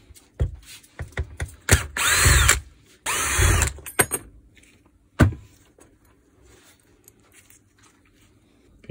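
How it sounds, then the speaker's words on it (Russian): A power tool unscrews the housing screws on a Makita UC4041A chainsaw in two loud whirring bursts, with clicks and small handling knocks before and after them and a quiet room around them. "откручиваем вот эти все винты"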